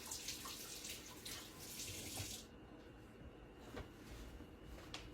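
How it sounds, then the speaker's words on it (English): Tap water runs loudly into a kitchen sink as hands are rinsed, a steady splashing that thins out halfway through, leaving a softer trickle and a few small knocks. "Let me rinse my hands real quick."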